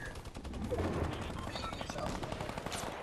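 Rapid machine-gun fire from a mounted turret in the military shooter Squad, a dense sustained burst of close automatic shots lasting the whole moment.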